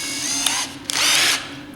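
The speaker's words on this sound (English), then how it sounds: "So to use the countersink bit, I'm going to put that in the drill." A power drill fitted with a countersink bit whirs loudly in two close bursts, a short one and then a longer, higher spin, with a click between them.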